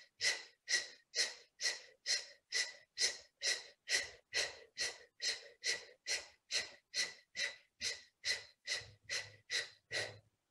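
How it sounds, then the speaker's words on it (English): Breath of fire breathing: about twenty rapid, forceful exhalations through the nose in a steady, even rhythm, close and clear with nothing else heard. "I'm just exhaling. And it's called the breath of fire."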